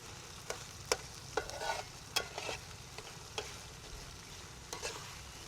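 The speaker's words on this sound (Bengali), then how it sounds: "নাড়তে হবে নাড়তে হবে নাড়তে প্রচুর পরিমাণে নাড়তে হবে" Hilsa fish mash being stirred in a frying pan, a spatula scraping in sharp, irregular strokes over a steady background sizzle, close and fairly quiet.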